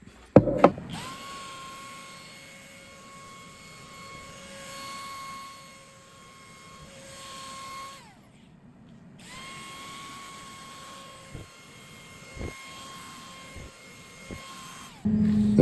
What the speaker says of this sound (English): now we're going to continue with a little bit of bowl sanding with a pad that's flexible